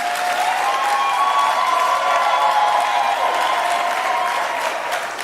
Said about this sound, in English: just to give them a round of applause so that they're inspired to do their work